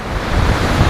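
Rough surf and gusting wind on the Acadia National Park shore, a loud, steady roar with heavy low rumble and wind buffeting the microphone, no voices.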